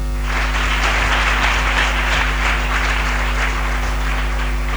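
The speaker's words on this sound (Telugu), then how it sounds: "ఒకసారి అందరు కలిపి చప్పట్లు కొట్టండి" A large church congregation claps together in sustained applause, a dense, steady patter of many hands over a low electrical hum, lasting several seconds.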